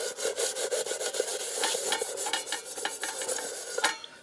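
Scraping food residue off an Ozark Trail mess kit pan outdoors by a campfire, a steady run of close, dense rasping and rubbing strokes that continue without pause.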